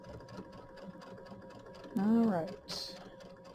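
Home sewing machine stitching a Kimberbell mini quilt: steady mechanical whirring with a brief louder burst of rising electronic beeps, and a voice speaks briefly.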